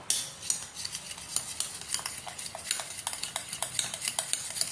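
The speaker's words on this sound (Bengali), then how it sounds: "তো এগুলো আমি ভালো করে মিক্স করে নেব।" Baking soda, salt and sugar stirred together in a bowl, a spoon scraping and clinking against the sides in a quick, steady rhythm of close, bright ticks.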